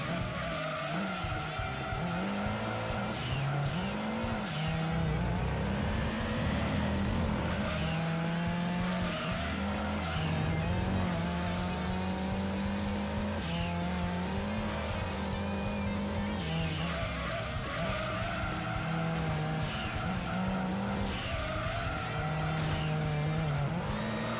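Toyota Supra racing in Gran Turismo 2, a continuous loud engine drone climbing and dropping through gear changes, with repeated tyre squeals and skids over the full run.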